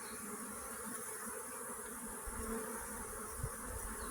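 Honeybees at a hive buzz in a dense, continuous hum, soft and steady, with the swarm sound spread evenly around and no voices.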